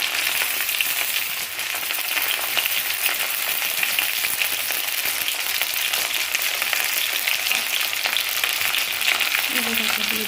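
Potatoes frying in a pan with soybean chunks and tomato paste, a steady loud sizzle and crackle filling the whole stretch, with faint stirring and no talk.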